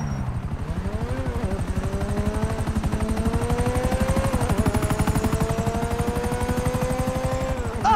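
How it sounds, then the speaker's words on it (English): A helicopter in Grand Theft Auto 5 drones with a steady, loud rotor chop throughout, its pitch rising slowly with a faint whine above it, holding close and constant for the whole stretch. "Another chopper!"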